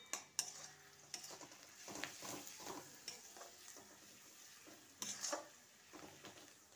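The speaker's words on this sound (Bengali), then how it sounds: "এটা ভালো করে মিক্স করে নিলাম।" Ground spices being stirred with a spoon in a pan or bowl for a vegetable jhal frezi, a mix of chilli powder, turmeric, cumin and coriander powder, giving soft scraping clinks and brief metallic taps, fairly quiet and close with no talk.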